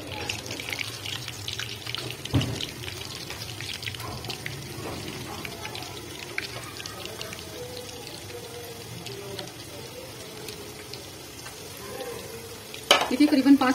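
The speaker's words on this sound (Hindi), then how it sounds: "अभी मैं क्योंकि अभी लगाकर अभी फ्राई कर रही हूँ" Yogurt-marinated chicken pieces frying in oil over a medium flame, giving a steady close sizzle with occasional louder crackles and utensil knocks.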